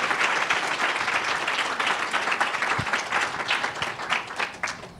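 A room full of people applauds a panel steadily, a dense wash of clapping that holds for several seconds without talk.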